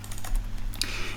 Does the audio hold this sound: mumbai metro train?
no